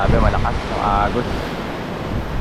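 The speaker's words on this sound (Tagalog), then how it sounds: "Grabe yung hila ng alon." Loud ocean surf in Batanes rushes and churns close by during a monsoon with rain, buffeted by heavy wind noise, with a brief voice rising over the roar early on.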